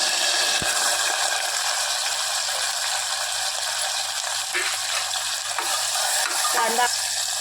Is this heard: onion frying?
yes